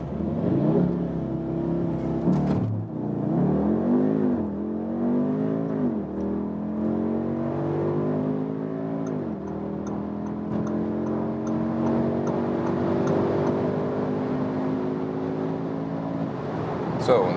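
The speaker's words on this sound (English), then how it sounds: "So that's the launch control from 0 to 190." Audi SQ2 launching with launch control at full throttle, engine revs rising through several gearshifts in a long sustained acceleration with climbing pitch, heard from inside the cabin with some voice underneath.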